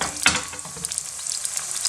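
Hot oil popping and sizzling while lamb keema fries over medium heat, a close crackling hiss with a sharp pop early on and scattered small spits after.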